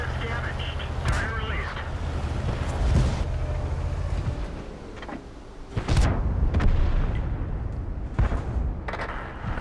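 Thunderbolt VII tank cannon blasts in World of Tanks: several heavy booms land irregularly over about ten seconds, each with a rumbling tail, amid ongoing battle noise and a voice talking.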